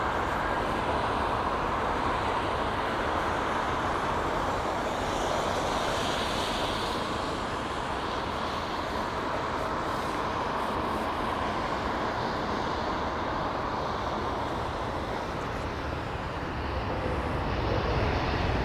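An airliner landing at London Heathrow in the rain, a steady broad roar of engines and wet rushing noise held at constant loudness throughout, with no voices over it.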